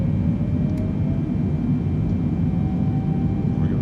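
Boeing 777-300 engines at takeoff thrust in a flight simulator produce a steady, loud, broadband roar with a faint high whine, continuous and without speech.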